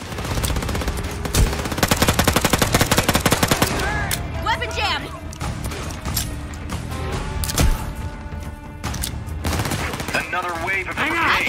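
Rapid gunfire erupts in a Walking Dead game cutscene: a dense burst of automatic shots early on, then scattered loud cracks and volleys, close and sharp, with voices calling out between the shots.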